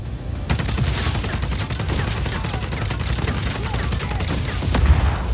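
Just Cause 4 machine gun fire: a rapid, continuous stream of loud, close shots in fast regular rhythm, sustained for several seconds with a dense rattling texture.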